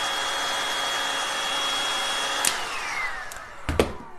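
A heat gun blowing hot air onto thin Woodubend backing, a loud steady whooshing hum close by that runs throughout, with a couple of short knocks toward the end.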